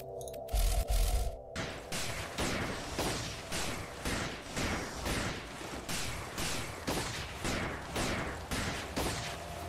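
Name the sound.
gunfire in video game Spacebase DF9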